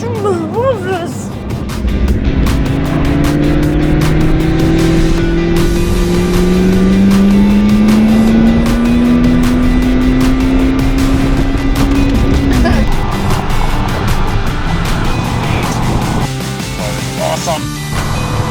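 A McLaren sports car engine drones steadily through spirited driving, rising in pitch under acceleration before dropping on a shift. The sound is close and loud inside the cabin, with occasional talk over it.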